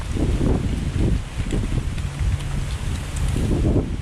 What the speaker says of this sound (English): I don't know if the wind drowned that out. It is very windy.